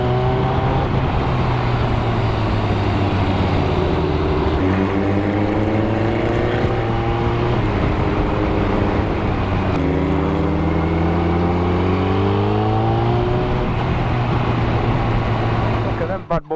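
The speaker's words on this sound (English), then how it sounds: "GSX1400 muscle bike. We're out for a little ride this morning" Suzuki GSX1400 muscle bike engine loud and steady while riding on a morning outing, with rising and falling revs through repeated gear changes and a droning, wind-buffeted roar throughout.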